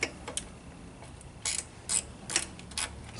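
A ratchet clicks in short, separate bursts while the brake is loosened on a Monster Moto 79cc minibike, with quiet pauses between the bursts.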